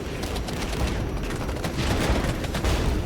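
Heavy artillery and explosions rumble through a Regiments battle, a steady barrage of deep booms and cracks at moderate loudness, with no voices.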